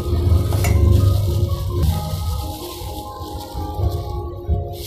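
Layered banana fritters (pisang goreng lapis) fry in hot oil, giving a loud, continuous sizzle and bubbling close by that eases slightly toward the end, with no talking.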